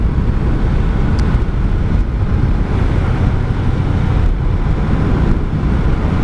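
Steady low rumble of a 1984 Honda Shadow VT700C cruiser out on the road, engine drone blended with heavy wind buffeting across the microphone, continuous and loud with no talking.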